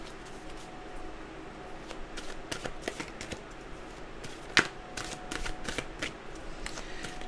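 A deck of mantra cards being shuffled up close, a run of crisp papery riffles and snaps with one sharper slap midway, steady and fairly quiet against a soft room hiss.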